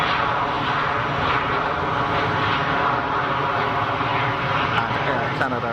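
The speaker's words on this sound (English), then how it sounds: "Big Embraer. Firewall in the throttle." An Embraer jet on the runway at Geneva Airport at full throttle gives a loud, steady roar that holds for several seconds, close and continuous, with voices talking over it.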